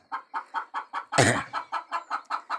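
Hen with twenty-day-old chicks kept indoors on a farm, clucking in a steady, even rhythm of about a dozen close calls, broken once by a loud harsh squawk, with nobody talking.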